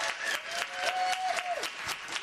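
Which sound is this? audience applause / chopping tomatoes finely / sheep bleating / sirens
audience applause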